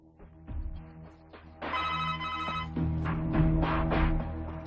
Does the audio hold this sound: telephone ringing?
yes